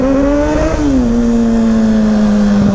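Kawasaki ZX6R sport bike with a Graves exhaust revving hard, a loud close whine that climbs, drops back and then holds a steady high-pitched drone, with no talk.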